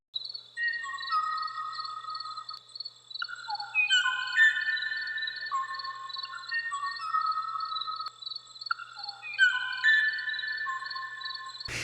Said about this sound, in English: he recorded images and audio of the rare bird, sounds that were likely a mating call